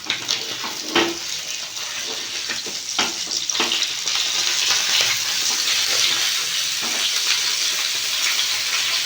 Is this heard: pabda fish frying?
yes